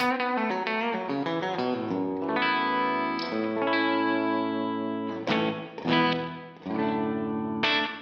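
Gibson Les Paul Supreme electric guitar on its bridge pickup with a bright, jangly, low-output clean tone, playing picked notes and ringing chords that sustain and decay, with no voices.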